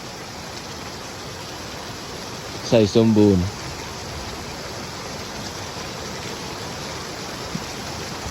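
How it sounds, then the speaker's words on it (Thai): Steady rain hisses evenly throughout, broad and continuous, with a person speaking briefly in Thai over it partway through, during a day of rain in Xaisomboun, Laos. "แต่มื้อนี้ตอนเช้ามาตื่นมาปุ๊บฝนตก"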